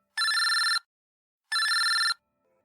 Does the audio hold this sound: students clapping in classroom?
no